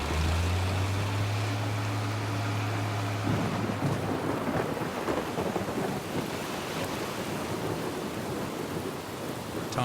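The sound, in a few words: thunderstorm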